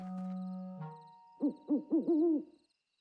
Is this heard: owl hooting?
yes